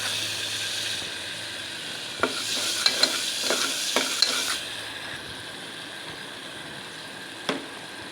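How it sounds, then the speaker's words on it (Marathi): Masala with raw garlic and salt being fried in oil for mixed vegetables, a steady sizzle with a run of spoon taps and scrapes against the pan in the middle and one more clack near the end. "हे बघा मसाला मस्त फ्राय झाला"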